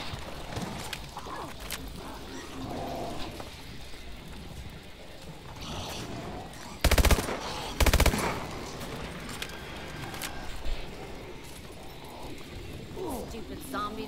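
Gunfire in the Exo Zombies mode of Call of Duty Advanced Warfare: rapid shots crackle under a player's excited talk, with two sharp, loud bursts near the middle.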